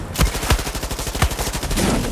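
Gunfire from enemy snipers in Far Cry 6, a rapid rattling string of shots with a few sharper cracks standing out, loud and close throughout.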